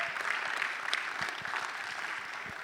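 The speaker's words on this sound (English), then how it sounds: "Let's give it a hand clap for everybody." Audience applause at the opening of a leadership track at Triangle InfoSeCon, a steady wash of many hands clapping from a mid-sized crowd, moderately distant and alone without talk.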